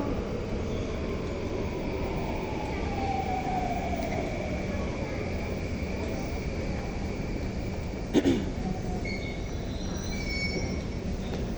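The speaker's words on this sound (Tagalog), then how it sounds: "Train ko." A train rolls steadily past close by, its cars rumbling loudly with a drawn-out metallic wheel squeal and a sharp clank near the end.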